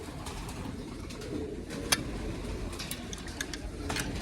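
Pigeons being fed maize coo softly and intermittently at a low level over a faint background hum, with a few small ticks scattered through.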